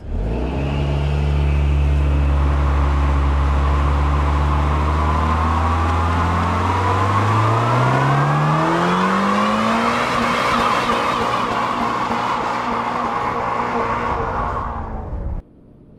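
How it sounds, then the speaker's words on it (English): A 2022 Toyota GR86 sports car does a burnout: the engine roars loud and steady as its pitch climbs, with a harsh, sustained tire squeal layered on top for about fifteen seconds before cutting off abruptly. "The first thing you want to do in the GR86 is a burnout."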